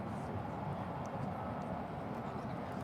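Boeing 777-300ER airliner inbound from London on approach to runway 18 right, a steady broadband engine roar that holds at an even level throughout, with no clear rise or fade.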